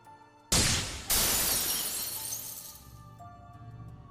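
A sudden bright shattering crash of a falling bell in Witch on the Holy Night, followed by a second burst of breaking, with glassy debris ringing and tinkling as it fades out.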